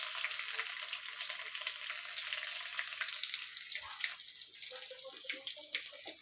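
Cumin seeds, two spoonfuls, sizzle steadily in hot oil for a Satara-style dal tadka, a bright crackling hiss that holds throughout, with brief stirring clinks and some soft kitchen noise toward the end.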